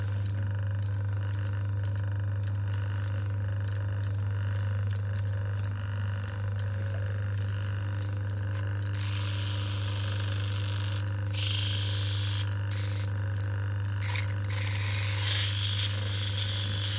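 An old Newman Elf single-phase electric motor, salvaged from a skip, runs with a steady low hum and a light, busy mechanical chatter over it, continuous and fairly close.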